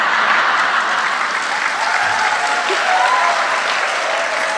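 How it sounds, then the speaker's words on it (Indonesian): A church congregation claps steadily and loudly during a sermon, a continuous dense wash of applause with no break and no voices. "Nggak usah tepuk tangan."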